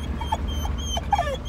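A purebred Labrador, a trained hunting dog, gives several soft, brief, high whimpers close by, in short uneven bursts over a quiet background hum.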